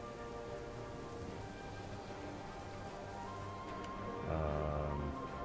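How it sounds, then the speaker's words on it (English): In a modded Halo 3 game, a heavy rainstorm effect pours down as a dense, steady hiss of rain, with a brief swell of louder rumbling near the end. "We have the rain effect as well, which, as you can see, spawns a giant rainstorm"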